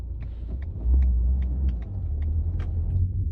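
A 2022 Renault Megane 4 sedan with about 141,000 km starts up, giving a low rumbling engine note that swells near the start and settles into a steady idle, heard alone and close.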